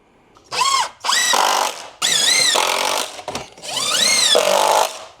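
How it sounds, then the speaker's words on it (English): A power driver sinks 1 3/4-inch screws through a cabinet toe kick into shim stock in four whirring bursts whose pitch rises and falls as the motor loads up, each separated by brief pauses, close and loud. "I'm just going to use these 1 3/4" screws and attach the toe kick to the shim stock."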